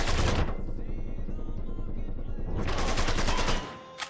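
Rapid automatic gunfire rattles through a Mafia III shootout, loud continuous bursts broken by a short lull before another heavy volley, then a sudden stop.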